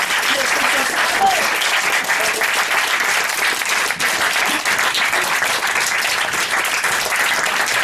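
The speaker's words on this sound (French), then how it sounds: "Allez, on applaudit bien fort." A large audience at an improvisation show claps loudly and steadily, a dense, continuous wash of applause that holds at full strength from start to finish.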